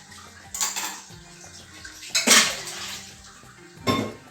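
Utensil scraping and clinking in a dish while a charmoula marinade is mixed for freshwater fish, three distinct bursts of clattering spaced apart, fairly close, with no talking.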